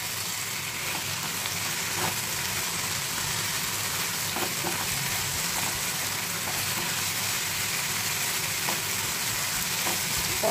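Pineapple and katla fish curry is sautéed in a pan on a low flame, giving a steady, even sizzle with faint stirring scrapes throughout and no talking.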